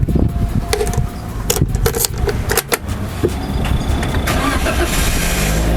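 A Toyota Calya G 1.2 manual with a used key is started, with rattling and clicks up front, then a continuous engine idle that settles in close and loud.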